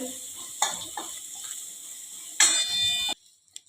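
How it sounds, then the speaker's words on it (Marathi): Curry leaves and a pinch of asafoetida tempering in hot oil, crackling and sizzling steadily with a sharp burst of spluttering near the end before it cuts off abruptly. "ही फोडणी आपल्याला एखाद मिनिटवर चांगली परतून घ्यायची आहे"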